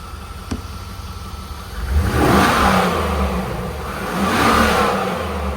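A 2001 Chevrolet Camaro Z/28 engine revs twice from a steady idle, each rev a loud rising and falling roar heard up close.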